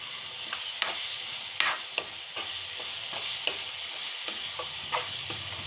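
Egg pulusu curry fries in oil in a pan, giving a steady, close sizzle with a few stirring scrapes and taps at uneven intervals. No one speaks.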